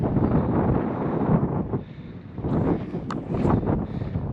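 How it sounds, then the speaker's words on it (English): Strong gusts buffet the microphone at Lake Catherine, a mountain lake in Utah, a loud, continuous low roar that surges and dips with no voices. "it is super windy here"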